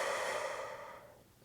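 Slow, deep exhale during a Pilates pelvic-floor exercise, a soft airy rush of breath that starts full and close, then tapers away over a second and a half, with no talking.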